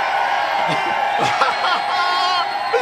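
A crowd at a live Trump and Elon event cheers with whoops and yells, a loud continuous roar broken by individual shouts and cries.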